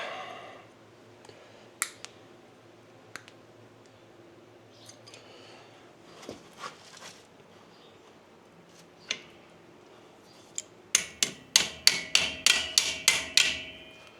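Metal hammer blows tap cotter keys back in on a 1956 John Deere 80 tractor, a few scattered strikes at first, then a rapid run of sharp, ringing metallic hits close by.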